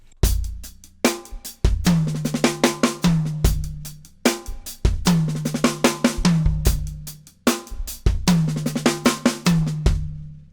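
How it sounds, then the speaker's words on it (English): Drum kit sixteenth-note groove where the gap before the fill is filled with bass drum kicks, repeating pattern of crisp snare and cymbal hits over deep thuds, played close and loud without speech. "The other thing you could do is fill the gap with the bass drum."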